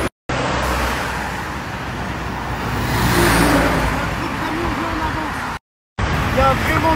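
Road traffic flows through the Istanbul suburbs, with a continuous engine and tyre roar and one vehicle swelling louder as it passes close by. People talk over the noise, and the sound briefly cuts out twice.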